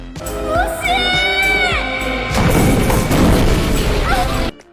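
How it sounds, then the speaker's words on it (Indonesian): A loud, roaring blast with crashing debris fills the second half, preceded by shouting and a rising whoosh, all close and intense. "Ledakan ini meledak sangat besar"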